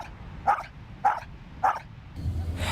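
A dog barks three times at an even pace, fairly close, followed by a brief rustling rumble.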